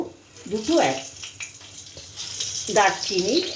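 Whole cardamom and cloves sizzling in hot oil with cumin and bay leaf for a dalia pulao, a steady crackling hiss with bursts of frying, while a voice speaks over it.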